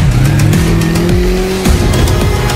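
A Hero Xtreme 125R motorcycle engine revs loudly and up close, its pitch climbing, dropping and climbing again in repeated throttle sweeps over a steady mechanical roar.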